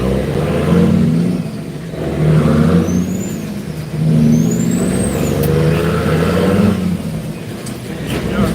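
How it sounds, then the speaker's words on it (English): A heavy truck's Jake brake engine braking near a port gate, a loud, rough diesel rumble that swells and fades in repeated pulses, close by, with other traffic noise around it. "Take off that Jake brake, man."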